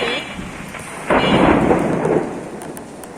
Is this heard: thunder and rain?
yes